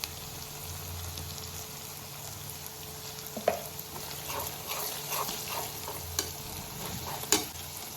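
Cumin, coriander and chili powder masala sizzles in a pan for a soyabean curry, with a continuous frying hiss and occasional sharp scraping taps from stirring, close and fairly loud.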